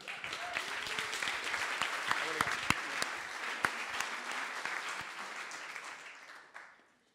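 An audience at a coding bootcamp demo day in Paris applauds steadily for several seconds. Scattered sharp claps stand out before the clapping tapers off at the end.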